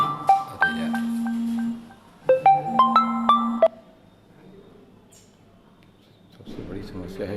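A mobile phone rings during a classroom economics lecture, sounding two bursts of a bright melodic electronic tune with sustained tones, loud and close. Quieter room noise and murmuring voices follow once the ringing stops.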